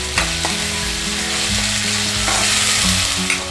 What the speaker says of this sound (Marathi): तर आपण 2 चम्मच आलं लसूण पेस्ट ॲड करणार आहोत। तर 2-3 मिनिटं आपण परतून घ्यायचे।